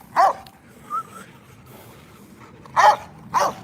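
Rottweilers bark in sharp bursts at a working-dog kennel. Two yips come close together, then a short whine, then two louder barks after a pause. No one speaks.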